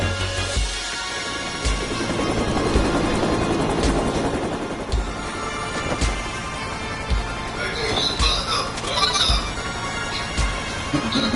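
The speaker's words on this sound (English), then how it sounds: "You see the helicopter taking off?" A helicopter taking off in The Mummy Demastered: steady rotor roar fills the scene, broad and continuous, with occasional thumps and clatter over the drone.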